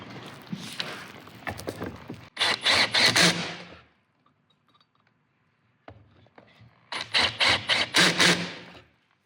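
Screws driven into wood while building a custom pantry cabinet: two loud bursts of rapid, rattling impacts from a driver, separated by a quiet pause, nearby and with no talk.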